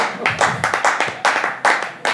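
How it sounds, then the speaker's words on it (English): A small comedy show audience claps during an applause break, a handful of sharp, close, irregular hand claps rather than a dense roar. "And that's an applause break in the business, guys."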